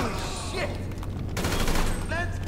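Gunfire in Grand Theft Auto 5 Online, a burst of rapid shots followed by further volleys, loud and close, with players talking over the action.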